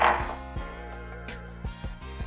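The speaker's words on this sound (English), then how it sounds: "We are just gonna stir in our brown sugar until it is completely combined." A utensil stirs brown sugar into melted chocolate in a bowl for brownies, giving a few close clinks and knocks against the bowl's side with soft scraping between them, no voices.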